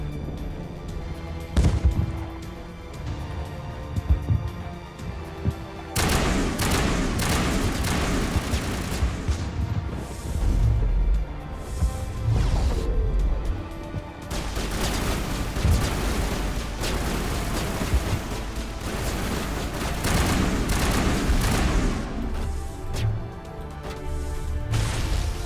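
Gunfire and explosions in the Mass Effect video game make a long, dense barrage of rapid shots and heavy booms that swell and ease in loud waves throughout.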